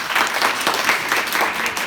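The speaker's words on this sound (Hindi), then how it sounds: "तालियां।" A crowd at a school gathering applauds, a steady patter of many hands clapping together, fairly close and sustained throughout.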